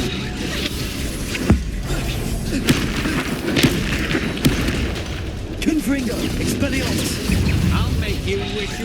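Confringo spell blasts in Hogwarts Legacy: several dull booms and thumps go off at irregular intervals amid busy game combat noise and overlapping character voices.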